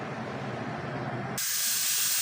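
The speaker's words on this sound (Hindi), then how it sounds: "गैस निकाल रहे हैं कुकर का" A pressure cooker with mutton curry inside releases its steam, a steady hiss that suddenly becomes a louder, sharper continuous jet partway through, close and uninterrupted by talk.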